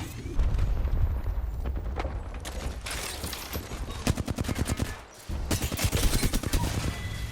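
Rapid automatic fire from a Flatline rifle in Apex Legends, with sustained bursts of sharp, even shots, a brief pause near the five-second mark, then another fast burst, loud and close throughout.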